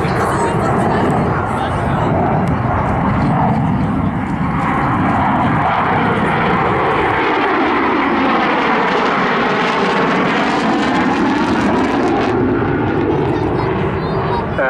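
Saab SK-37 Viggen jet flying a barrel roll on a display pass at the Southport airshow 2019, a loud continuous engine roar sweeping through the clip with shifting pitch from start to finish, mixed with crowd and commentary noise.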